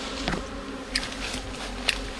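A swarm of dwarf honey bees buzzes close by in a dense, continuous drone, with a few louder passes as individual bees fly near.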